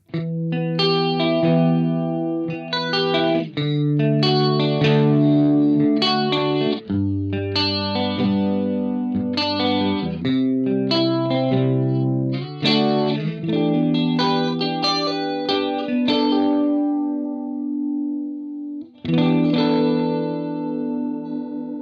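An electric guitar plays picked chords and notes through a TC Electronic Brainwaves pitch shifter pedal set to a shimmering, swirling chorus effect, continuous and fairly loud, with no voices.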